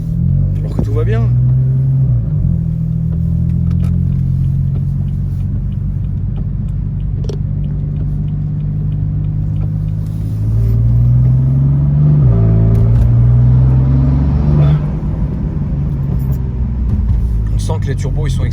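A 650-horsepower turbocharged car accelerates in the rain, a deep, loud engine rumble rising and falling through several pulls, with people talking over it throughout.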